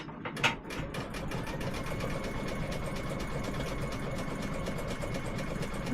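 An embroidery machine stitches out a design on a tea towel, a steady continuous mechanical whir with a fast rhythmic needle clatter, close and even throughout after a brief louder knock near the start.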